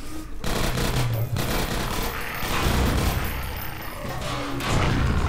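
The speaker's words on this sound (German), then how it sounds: "Schieß alles raus, was hast" Gunfire in Half-Life 2 Episode 1, with rapid bursts of shots and crashing impacts that run loud and continuous through the whole stretch, no voices on top.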